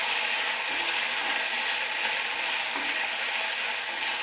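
Ginger paste frying in hot oil, a dense, steady sizzle with a faint scraping of stirring, close and continuous without any voices.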